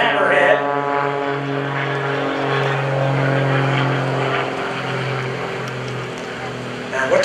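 Aerobatic propeller airplanes of Gary Ward and Greg Connell at the 2015 Greenwood Lake Airshow, a steady loud droning engine hum with wavering pitch that persists throughout, with a voice talking over it.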